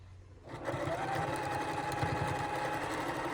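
A sewing machine runs steadily as it stitches a quilted Christmas stocking from the inside, its motor giving a continuous, even, close-up whir with a fast rhythmic chatter after a brief quiet start.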